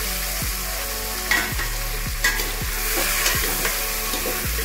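Boiled chickpeas and soya chunks sizzle steadily in a frying pan while a spoon scrapes through them in a regular rhythm of about two strokes per second, close and clear with no talking.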